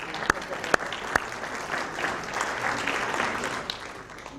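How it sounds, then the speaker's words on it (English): Audience applause at a property investment workshop, steady and moderate with a few sharp claps up front, heard from within the room without talk over it. "let's give her a round of applause"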